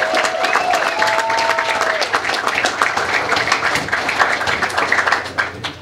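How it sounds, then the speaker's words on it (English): A room of people applauds students at a Hialeah High School football signing day, brisk clapping with cheers and a few whistles that pulses and thins into scattered claps near the end. "please give them applause"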